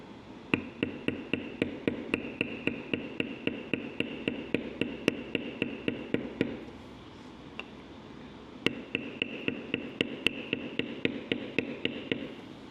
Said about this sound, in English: the next thing I'm going to do is bevel around that